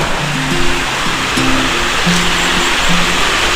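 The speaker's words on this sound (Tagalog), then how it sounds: "Malakas naman yung lagas-las ng tubig kahit na sobrang init ng panahon." Rushing water from a small roadside waterfall pours in a loud, steady roar close by, with a faint low tonal hum running beneath it.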